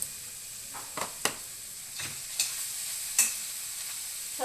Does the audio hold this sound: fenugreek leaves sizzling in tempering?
yes